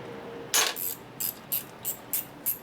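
A ratchet works quarter-inch drive bolts loose on a 1988 Harley-Davidson FXR, giving six short metallic clicking bursts in an uneven rhythm, close and clear against a quiet background.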